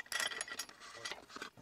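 Ratchet wrench clicking in short bursts while loosening a car wheel during a check of squeaky, glazed brake rotors; close, crisp mechanical ratcheting with brief pauses, no talk.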